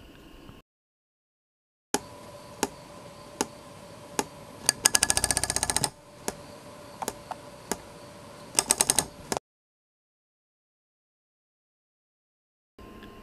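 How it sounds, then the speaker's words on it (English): A balsa rubber-band model airplane's propeller shaft hook clicks against a white plastic part in sharp, rapid ticking bursts, with brief rattling runs and silent pauses between. "Do you hear that clicking sound? Can you see what causes it? It's the hook bumping against the white plastic thing."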